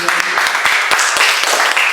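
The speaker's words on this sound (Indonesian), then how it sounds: "Tepuk tangan." Church congregation applauding during a sermon, dense steady clapping filling the room at close range, with a few sharper individual claps standing out.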